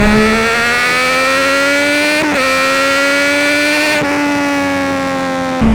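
Loud, close Triumph Daytona 675 sport motorcycle engine revving hard and accelerating, its pitch climbing with two brief dips as it shifts gears.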